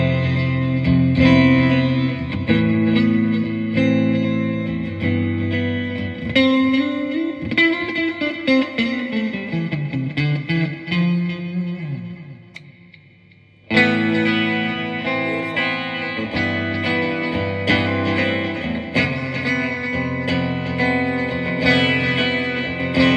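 Clean Fender electric guitar notes and chords ring out with delay and reverb trailing behind, including a bending passage, then a brief drop before playing resumes.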